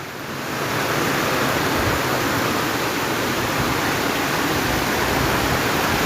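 Heavy rushing floodwater overflowing from a canal roars steadily and loudly throughout, a dense broadband wash like a torrent pouring over an edge, with no voices.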